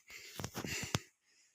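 Heavy, ragged panting breaths of someone winded after walking outdoors up steps, several close breathy gasps in quick succession, then a short fade to near silence.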